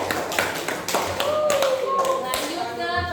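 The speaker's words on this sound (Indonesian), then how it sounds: "tepuk tangan untuk kelompok 4" Handclapping for a student group during a classroom presentation, scattered claps at close range while a voice speaks and a tone sounds alongside.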